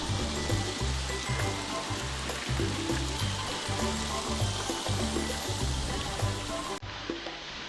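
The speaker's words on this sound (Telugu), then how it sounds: "వాటర్తోని ఫౌంటైన్ అయితే చాలా బాగుంది." A water fountain at Swarnagiri temple gives a steady, fairly faint splashing hiss, with a rhythmic low thumping running underneath.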